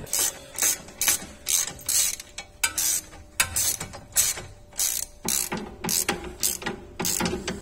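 Rapid ratchet clicks come in short bursts as a suspension bolt is tightened on a Mercedes W201 190E, pausing briefly between strokes, close and mechanical with a faint metallic ring.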